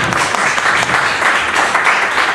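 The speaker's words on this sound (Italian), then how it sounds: "Carina, qui ci scappa l'applauso perché comunque." Audience applause at an Italian music press conference for a 2017 tour, a steady dense patter of many hands clapping, loud and close, filling the whole stretch without pause.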